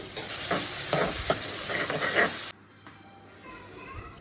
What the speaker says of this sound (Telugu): అది వేసేసి ఆనియన్ అండ్ కర్రీ అదే కర్రీ లీవ్స్ వేసి మంచిగా వేయించుకోవాలన్నమాట